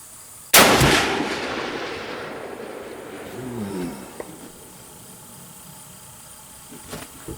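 Single loud shot from an Alt 6 mountain rifle at a 100-yard range, a sharp blast near the start that rolls off into a long fading echo, followed by quiet.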